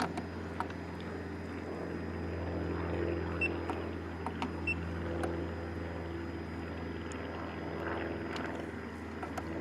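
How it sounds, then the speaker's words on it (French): An electric ventilation fan runs inside a Fiat Ducato van on its 220-volt supply, a quiet steady hum with faint tonal whine and occasional small clicks, heard alone at low level. "Dans ces cas-là, le ventilateur se met en place."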